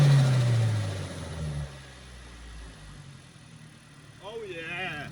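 A broken turbocharged Mazda idles after warming up, its engine a low steady hum and rumble that dips slightly midway, with a voice talking over it near the end.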